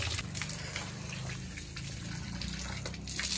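Water runs steadily outdoors while someone washes their face after a bike ride, a continuous rushing gush with no break.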